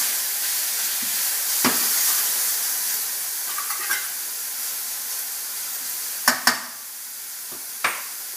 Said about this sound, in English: add beef and cook, stir for 5 minutes or until browned